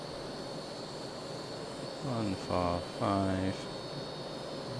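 A Hawker Hunter jet accelerating for takeoff in the Prepar3D flight simulator, a steady, moderate whining turbine roar with a short spoken callout over it.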